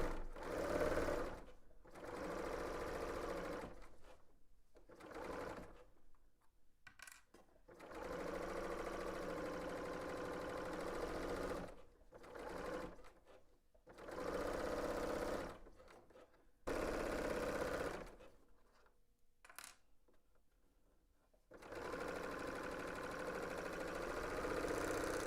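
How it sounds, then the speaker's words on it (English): A 4-thread overlock sewing machine sews side and shoulder seams at a 5/8-inch seam allowance, running in steady buzzing bursts of several seconds with brief stops between passes, close and continuous. "we are stitching the side seam and the shoulder seams at 5/8 of an inch seam allowance. I am using a 4-thread overlock stitch."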